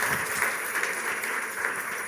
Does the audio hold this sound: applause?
yes